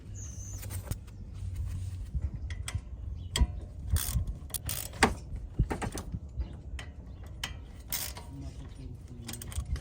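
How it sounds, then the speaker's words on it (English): A ratchet with an 18mm socket tightens a brake caliper bracket bolt on a 2014-2018 Chevrolet Silverado 1500 front brake. Close, irregular metallic clicks and clunks come in bursts over a low background hum. "Use 18mm socket to tighten caliper bracket bolt."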